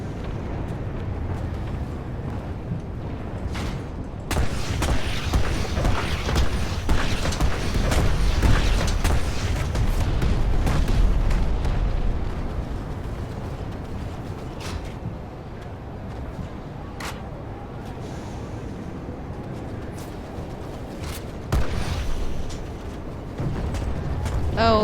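PlanetSide 2 anti-aircraft turrets and AA Maxes at night pound away with heavy booming flak and explosions under a rumbling engine drone, bursts swelling and fading over a long stretch.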